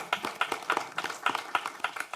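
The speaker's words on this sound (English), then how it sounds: "And so I want to give you a round of applause" A round of applause at a city council meeting, sparse rhythmic claps from what sounds like one or a few people, evenly spaced and moderately close.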